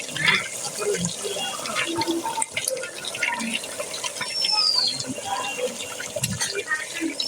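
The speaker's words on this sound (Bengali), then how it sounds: "তো এরপর কিছুটা পরিমাণ ঝোল দিয়ে নেব একবারে।" Broth is poured into a pot of beef curry with new potatoes, a close, continuous splashing and gurgling of liquid with light sizzle, a voice faintly in the background.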